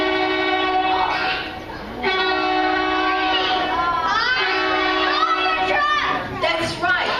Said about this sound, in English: the A train has come to town